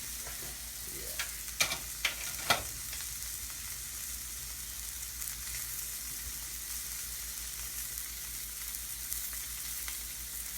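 A thin cut steak frying in a pan for steak and eggs, a steady soft sizzle throughout with a few sharp clinks from a utensil early on, fairly quiet and close.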